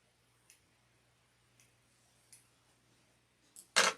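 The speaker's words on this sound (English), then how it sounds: "we're going to trim any excess threads." Scissors trimming excess threads while sewing an apron, a few quiet, spaced snips followed by a louder, sharper cut at the end, close by in a quiet room.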